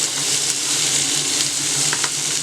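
Tomato rice ingredients sauté in a pan over medium heat, giving a steady, close frying sizzle with soft stirring scrapes throughout and no talking.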